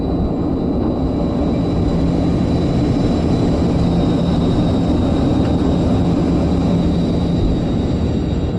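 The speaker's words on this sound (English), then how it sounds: "That's it. We're taking off." A Soviet Yakovlev Yak-40 jet airliner takes off, a loud, steady, broadband engine roar with a rushing rumble that holds unbroken from start to finish, heard from inside the cabin.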